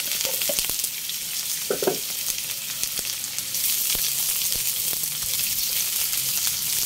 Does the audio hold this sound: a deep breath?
no